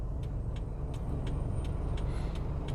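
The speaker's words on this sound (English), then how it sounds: "Is a truck coming this way as well?" A heavy vehicle rumbles on a road near a roundabout in New Zealand, a low continuous engine drone heard from inside a car, with faint regular ticking over it.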